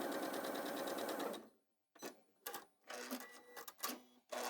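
A sewing machine stitches fabric in quick mechanical runs, first a long continuous burst, then a pause and several short stop-start bursts, close and clear with no talking.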